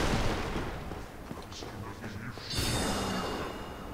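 A sorcerer enemy in Dark Souls Remastered fires magic projectiles at the player, producing a dense barrage of booming, whooshing blasts that rumble continuously, with a brighter burst of impact noise near the end.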